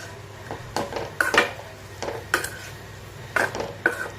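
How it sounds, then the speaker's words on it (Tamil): Paneer is stirred into a vegetable stir fry in a pan, producing repeated scraping clinks of a spatula against the metal at an uneven rhythm, close and fairly quiet. "போட்டுட்டு அதையும் நல்லா மிக்ஸ் பண்ணிக்கலாம்."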